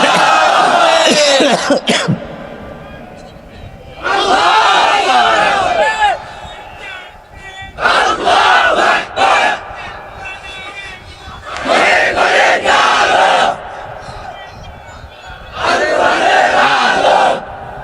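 A large outdoor crowd at a religious gathering shouts the takbir chant in unison, five loud, separate bursts of massed voices, each lasting about two seconds, separated by short quieter gaps.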